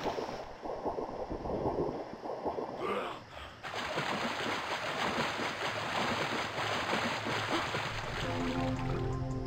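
A waterfall in the Turok: Dinosaur Hunter video game gives a continuous broadband rush that swells louder after a few seconds. It holds steadily, and other game sounds are layered over it.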